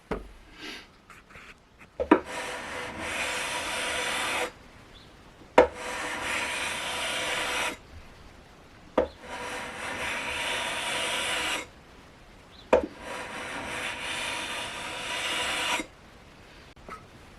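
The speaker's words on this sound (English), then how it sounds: "after about 50 strokes with the sanding beam, I have a definite pattern appearing on the fretboard" Rhythmic rasping strokes of a sandpaper-covered metal sanding beam rubbing back and forth on a jazz guitar's wooden fretboard, in four long bursts separated by short pauses, close and steady.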